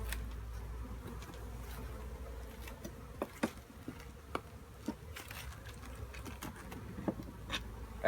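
Honey bees buzz around an opened hive during a winter inspection, a soft steady drone close by with occasional louder passes of individual bees and light tapping, no voices.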